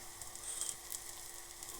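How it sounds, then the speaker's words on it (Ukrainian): Slices of eggplant fry in a hot pan, giving a steady, close, bright sizzle that hisses evenly for a moment with no voices. "Обсмажуємо баклажани"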